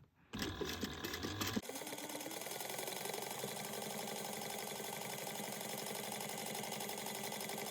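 A sewing machine basting pieces of a bowler bag together runs in a steady, fast mechanical chatter after a brief start, close and continuous.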